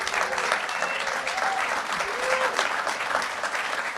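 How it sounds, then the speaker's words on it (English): A club audience applauds a panel at a grand reopening event, steady dense clapping filling the room for the whole stretch, loud and continuous. "Can we all give them a round of applause?"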